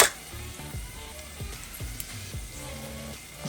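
A pat of butter melts and sizzles in a pan: soft, steady crackling and spitting close by, with a few faint clicks and taps and no talking.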